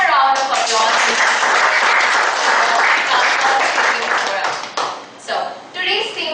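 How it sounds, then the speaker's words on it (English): A forum audience bursts into loud, dense applause for a speaker. The clapping holds steady for about five seconds, then thins into scattered claps. "Give him a round of applause."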